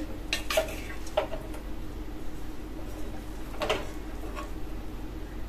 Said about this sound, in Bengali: বিরিয়ানিটা এখন এরকম অবস্থায় এসছে, হালকা হালকা করে নাড়তে হবে